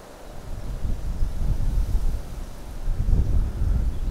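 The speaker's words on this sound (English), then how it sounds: "It's precarious with the wind." Wind gusts across a lake, a loud, rushing low roar buffeting the microphone that swells and eases in waves, with no voices.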